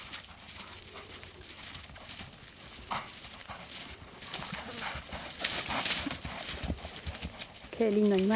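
Hooves of a piebald overo horse clip-clop steadily on the ground at close range, running under ongoing conversation with a brief higher tonal sound near the end.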